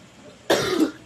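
A single sharp cough bursts out after a quiet start, loud and close, lasting about half a second before fading, set during a home dinner of lechon manok and pork steak.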